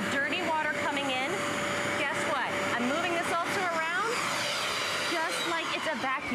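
Bissell carpet cleaner running continuously, a steady whining motor and suction drone with people talking over it throughout.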